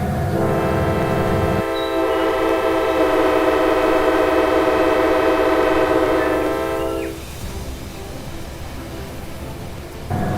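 Three CN diesel locomotives approach loudly with a sustained multi-tone horn blast lasting several seconds over heavy rumbling engine noise, then the horn cuts off and the rumble continues.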